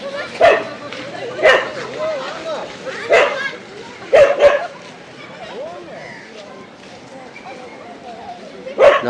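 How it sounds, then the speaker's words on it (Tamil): A dog barks repeatedly and close by, sharp yips spaced a second or so apart, with some whimpering between them. "நாய் குறைக்குது"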